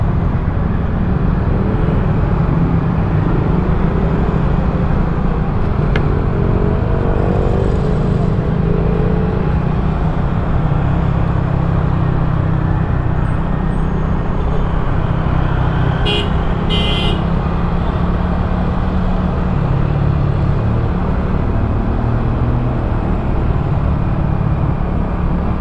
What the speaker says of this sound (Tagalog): yan ang ano, back to normal traffic.